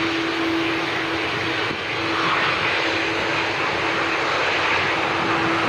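Steady, loud engine roar of an airplane on the runway at Dublin Airport, a constant broad whoosh with a faint high tone running through it, heard alone without voices.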